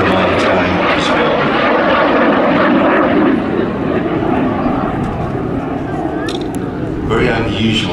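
A BAC Jet Provost jet trainer at an air show roars overhead, a loud broad engine rush that swells and then eases slightly, with someone commentating over it throughout.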